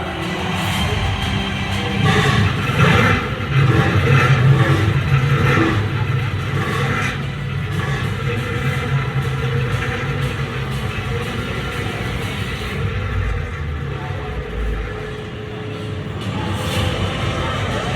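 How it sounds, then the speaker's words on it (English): Race car engines at the Indianapolis Motor Speedway start, rumble and rev in a loud continuous roar, with swelling acceleration and a crowd-like wash of noise, heard from a distance. "Drivers, start your engine!"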